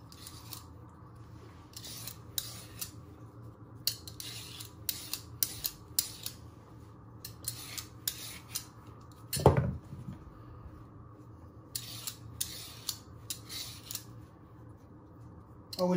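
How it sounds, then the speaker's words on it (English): Repeated short scraping rasps of a vegetable peeler stripping skin from winter vegetables, coming in quick bursts with brief pauses, close and fairly quiet against a low steady kitchen hum, with one sharper knock near the middle. "You get your peeler and you peel all the skin again."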